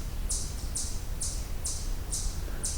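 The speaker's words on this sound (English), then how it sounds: "This is a chipmunk." A chipmunk gives six sharp, high chip calls at an even, steady pace, each short and bright, heard from a moderate distance over a low background rumble.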